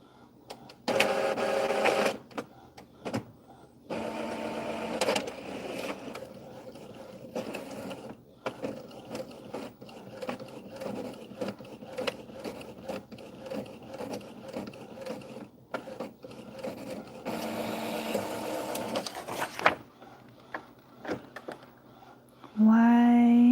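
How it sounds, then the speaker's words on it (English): An inkjet printer runs a print head nozzle check. Repeated bursts of mechanical whirring, clicking and ratcheting from the carriage and feed come close and fairly loud, with short pauses between passes. "Performing nozzle check to see if the print head requires cleaning."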